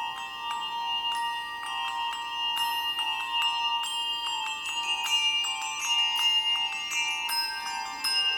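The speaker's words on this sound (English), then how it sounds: "Oh, look, bells. May I try?" Bells rung on stage during a community theatre production of Elf the Musical give bright, layered metallic chimes struck again and again, ringing out continuously and fairly loud with no talking over them.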